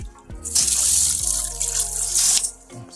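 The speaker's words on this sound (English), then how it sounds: "And then we'll turn on to the hot water." A bidet sprayer fed by a hot and cold mixing valve sends out a loud, steady hiss of water for about two seconds, starting abruptly and then cutting back with some splashing.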